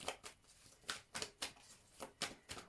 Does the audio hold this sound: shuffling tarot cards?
yes